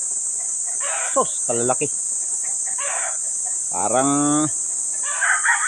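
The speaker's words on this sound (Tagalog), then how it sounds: "Oh, dami nila dito manok." Several roosters crow in long, rising-and-falling calls, one loud and close near the middle, over a steady high insect drone, with hens clucking briefly and someone speaking a few words.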